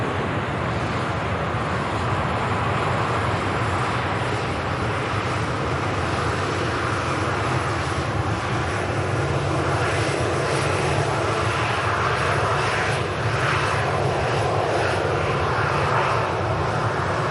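An airliner landing at Manchester Airport in windy weather: a loud, continuous jet engine roar that holds steady and close throughout, with broad rushing noise and no pauses.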